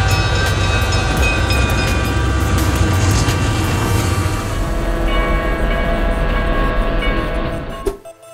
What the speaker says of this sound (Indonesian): tanpa tahu kalau ada kereta satu lagi yang lewat